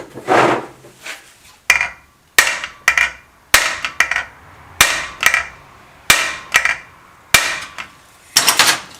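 Heavy hammer blows strike a heated part on a Harley Topper scooter to jar it free from a taper. Sharp metallic impacts come at a steady, roughly one-per-second rhythm, each ringing briefly, loud and close.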